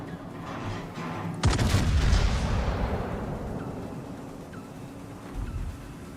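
Naval gunfire in World of Warships as a sudden heavy boom strikes, followed by a long rumbling roar of shell explosions and a ship detonation that slowly fades, with a fainter thud near the end.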